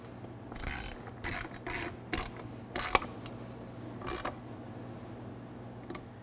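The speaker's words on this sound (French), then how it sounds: "Prenez votre 5 mm Allen key et c'est le temps de sécuriser celle en avant." A 5 mm Allen key tightens a footrest bolt on a 2020-or-later Can-Am Spyder RT three-wheeled motorcycle, giving a handful of sharp metallic clicks and scrapes with one distinct tick, close up over a steady low hum.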